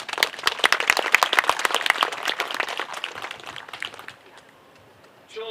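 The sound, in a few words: audience applause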